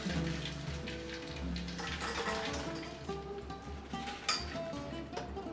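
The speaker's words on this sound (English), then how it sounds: "Now deep fry the cheese samosas. Deep fry till it's nice golden brown color." Cheese samosas deep frying in hot oil, a dense close crackle and patter of bubbling with a few sharper pops, steady from start to finish with no voices.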